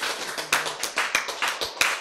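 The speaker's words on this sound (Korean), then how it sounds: "박수!" Audience clapping at a Korean health lecture, heard as a few loose, uneven claps and taps scattered over about two seconds, fairly close and sparse rather than a full ovation.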